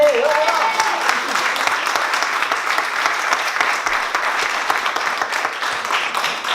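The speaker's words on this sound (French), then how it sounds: "Merci, applaudissez." Sustained audience applause at a talk, dense and steady clapping that holds at an even level for several seconds, with a brief voice at the start.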